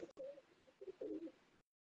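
Pure-bred Sialkoti black-faced pigeons coo softly in two short, throaty bursts with a brief gap between, faint and close with no voices.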